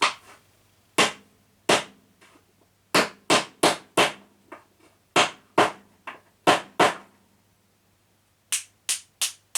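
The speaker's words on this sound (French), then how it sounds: "on va prendre un marteau en caoutchouc" Rubber mallet knocking a tight-fitting part into place on an X-Maxx RC truck, a series of sharp, close blows in small clusters with short pauses between them.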